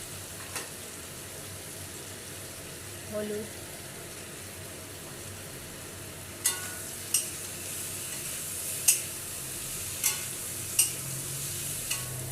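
Eggplant frying in a pan with hilsa fish head and Malabar spinach, a soft steady sizzle punctuated by several sharp spoon-scrape and clatter hits in the second half, with a voice speaking briefly.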